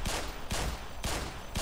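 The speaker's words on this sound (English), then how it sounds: "I can hear gunshots." Three bursts of gunfire ring out in the game Black Mesa, evenly spaced about half a second apart, sharp and fairly quiet.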